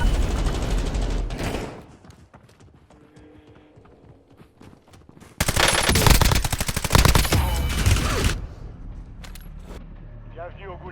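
Gunfire from the Call of Duty Warzone video game comes in two dense, loud bursts of rapid shots, separated by a quieter stretch, with other game sounds between and after the volleys.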